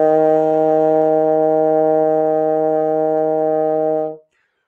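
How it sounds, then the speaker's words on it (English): A trombone holds one steady, low, brassy long note for about four seconds at an even, fairly loud level before it stops cleanly, played alone in a practice lesson. "I'll play it in trombone."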